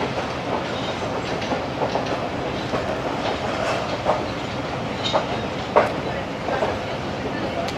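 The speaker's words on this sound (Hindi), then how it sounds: "ट्रेन हमारी जैकाबाद रेलवे स्टेशन पे अप्रोचिंग बना रही है" Passenger train approaching Jacobabad railway station in Pakistan, heard from on board as a steady rolling rumble with intermittent clicks and clacks of the wheels, under faint voices.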